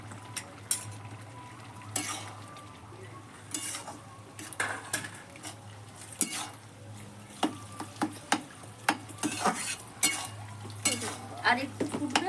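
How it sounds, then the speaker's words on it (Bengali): A spicy Bengali curry of small fish with green tomato and kasundi mustard simmers in a pan, a soft sizzle beneath repeated sharp scrapes and clinks of a utensil against the metal. "আর একটু ফুটবে, আমি নামিয়ে নেব।"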